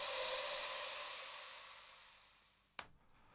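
A sweep effect from an electronic music mix: a bright, airy noise swell that slowly fades over more than two seconds, ending with a sharp hit and a short, fading tail.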